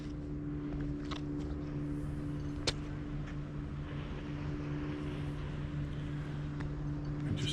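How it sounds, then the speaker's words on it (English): A small rubber dinghy motors into a marina on the Mallorca coast, its outboard a steady, moderate drone with a faint hum running throughout, heard alone in the open harbour air. "I just hear a boat coming in."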